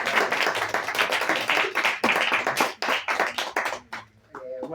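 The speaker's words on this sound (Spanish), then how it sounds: "un aplauso por esta ópera" An audience applauds a poet's debut book at a transatlantic poetry gathering, a dense burst of close clapping that fades off near the end and gives way to a voice.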